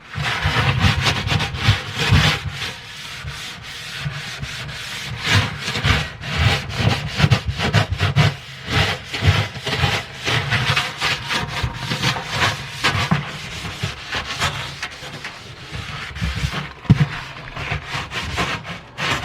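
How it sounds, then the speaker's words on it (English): Scrubbing strokes from a sponge on the inside of a dirty oven carry on for a long stretch, each rasping rub following the last in an uneven rhythm, close up and fairly loud, with no talking. "we're gonna use a better sponge like this, and we're gonna scrub it"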